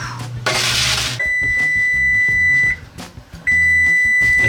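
An electronic oven timer gives two sustained high beeps separated by a short pause, with faint clattering kitchen sounds in the background.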